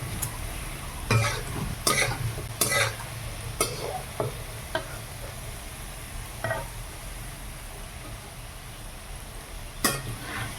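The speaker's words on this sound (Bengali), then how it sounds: "এখন আমি আলুটাকে সুন্দর করে ভাজবো।" Diced potatoes fry in a pan for a fig curry, a soft continuous sizzle broken by several brisk scraping stirs of a spatula against the pan, close by.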